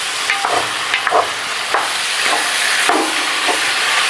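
Beef browning in a big 12-quart Dutch oven on an outdoor gas stove gives a steady, loud sizzle and hiss, broken by several scraping stirs, with no talking.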